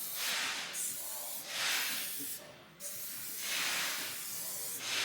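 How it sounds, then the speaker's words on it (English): Rust converter sprayed from a can onto exposed metal on rotten seatbox ends of a Land Rover Defender, four short hissing bursts separated by brief pauses, fairly faint and close. "spray it where we've exposed the metal"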